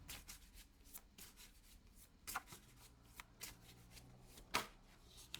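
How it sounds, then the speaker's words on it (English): A tarot deck is shuffled and a single card is drawn, soft papery riffles and flicks in irregular bursts, close and quiet, with no voices. "We're just going to pull one card here."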